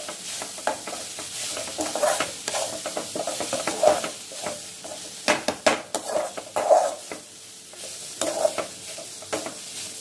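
Food is stirred in a pan after asafoetida goes in, while cooking gooseberry rice: a rhythm of close utensil scrapes and knocks on the metal over a soft sizzle, with a single spoken word.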